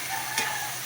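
Garlic and onion sizzle steadily in a frying pan, a dense bright hiss with one quick scrape of stirring partway through.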